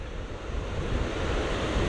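Rough ocean surf at St Lucia Estuary, a continuous loud roar of breaking waves mixed with wind buffeting the microphone, with no voices.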